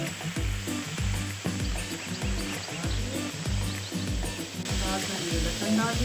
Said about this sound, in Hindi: अब ऑयल गर्म हो चुका है तो मैं इसके अंदर ये टमाटर डाल रही हूँ।